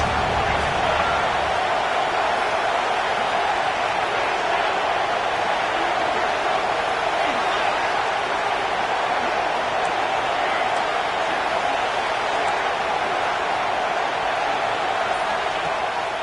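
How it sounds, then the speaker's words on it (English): A stadium crowd at a football game sends up a steady, loud, continuous roar that fills the space evenly throughout, with no breaks or distinct voices standing out. "this crowd is at fever pitch"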